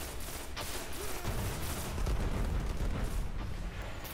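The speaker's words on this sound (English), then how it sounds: "Somehow he's missed you with two rockets." Rocket explosions in a video game, low rumbling booms and rolling blasts under continuous battle noise, fairly faint and distant.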